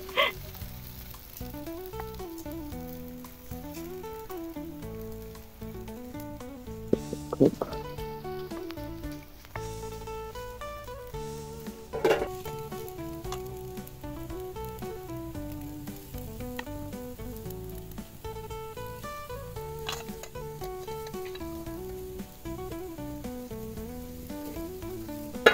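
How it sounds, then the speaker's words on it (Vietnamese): Bánh xèo batter with clams sizzling in a hot pan, a steady frying hiss that runs the whole time beneath louder melodic background music. "Nghe xèo xèo luôn rồi, là bánh xèo bây giờ."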